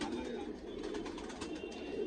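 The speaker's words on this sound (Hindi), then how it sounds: "ये जोड़ वाले कबूतर" Paired pigeons kept by a long-time fancier in Hasanpur coo continuously and softly at close range, a low murmuring bed with faint ambient bird noise throughout.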